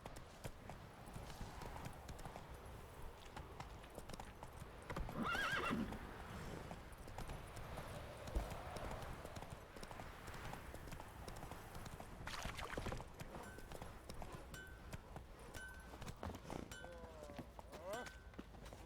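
Roach, a horse in The Witcher 3, gallops with steady clip-clopping hooves and lets out a loud whinny partway through, over a busy game soundscape with voices and background music.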